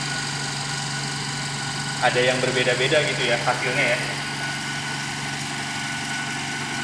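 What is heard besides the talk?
pneumatic Instron tensile testing machine running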